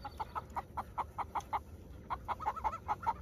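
A chicken gives a quick series of short, rhythmic clucks, fairly faint and steady across two bursts, with no voices heard.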